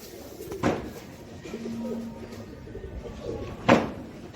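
Royal Teddy pigeons coo softly and intermittently nearby, low murmuring calls under faint background noise, with two sharp knocking sounds standing out.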